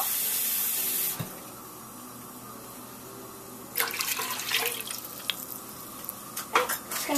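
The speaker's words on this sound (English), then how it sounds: "And then we're also going to add 1 cup of water as well." Water poured into a pan for Vietnamese banh bot chien batter, a short splashing pour followed by intermittent splashes and drips in a home kitchen, close and clear with no voices.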